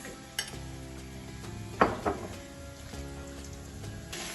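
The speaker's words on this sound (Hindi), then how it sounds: "तो अब हम इसमें ये कीमा डाल देते हैं।" Chicken mince cooks in a hot pan, a soft steady sizzle carrying under a few sharp clinks and scrapes of a spoon against the metal.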